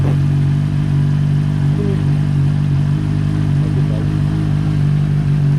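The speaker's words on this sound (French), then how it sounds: "6 mois sans tourner, la moto elle démarre" A motorcycle engine idling steadily after starting from six months unused, a loud, continuous low rumble that holds an even pitch throughout.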